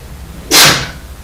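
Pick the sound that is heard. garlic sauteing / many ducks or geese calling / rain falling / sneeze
sneeze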